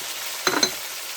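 Tomatoes frying with rock salt in a pan, with a low steady sizzle and two brief louder stirring scrapes midway through a short stretch.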